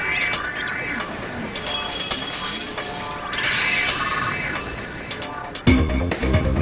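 A smashing blow attack effect in the Pokémon Battle Revolution video game, loud bright shattering like breaking glass layered over game music, ending in a heavy thudding impact near the close.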